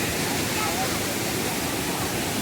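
Satkund waterfall in Konkan pouring down with people bathing nearby, a dense, loud, unbroken roar of falling water filling the whole scene without pause.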